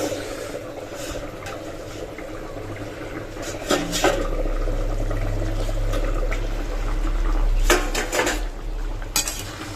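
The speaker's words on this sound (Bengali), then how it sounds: "চলো ঢাকনাটা খুলে দেখে আমার তরকারিটা কতদূর হলো" Metal lid lifted off a cooking pot of simmering curry, with clanks and scrapes of cookware up close and a bubbling, hissing undertone between the clatters.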